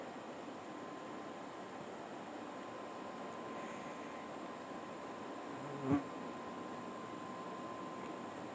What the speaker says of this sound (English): My bee buddy is buzzing around.